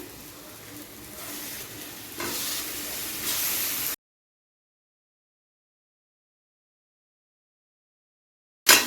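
Bombay duck fish, salted and coated in turmeric, drops into hot spiced oil with vegetables and sizzles in a steady, fairly loud hiss that intensifies briefly before cutting to silence.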